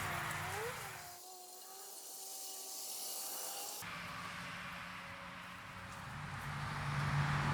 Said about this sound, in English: pour some water in there